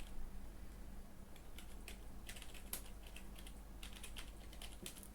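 Typing on a computer keyboard, with a quiet, irregular stream of light key clicks and a few sharper taps over a faint steady hum; no voices are heard.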